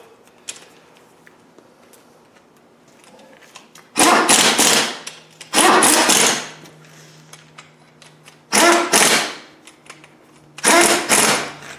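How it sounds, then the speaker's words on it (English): An air impact gun set to low speed tightens bolts during assembly of a Land Rover LT230 transfer box, firing four loud rattling bursts of about a second each, separated by quiet gaps in a workshop. "we'll just put our gun on low speed and just give them a very tighten up"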